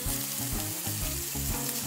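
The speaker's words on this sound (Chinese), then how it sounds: "把它煸到有一点微焦，记得小心会喷" Pork belly slices render their fat in a hot oiled pan over medium-low heat, giving a loud, continuous close-up sizzle that runs the whole moment over a rhythmic low backing.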